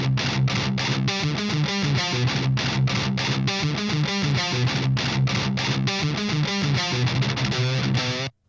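Electric guitar runs through an amp simulator with the gain turned way down, giving a clean, thin tone on a fast, steady palm-muted metal riff played continuously and close before stopping abruptly.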